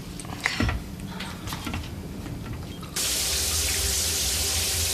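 Quiet indoor sounds give way, about halfway through, to a shower turned on: a sudden, loud, steady hiss of running water that continues to the end.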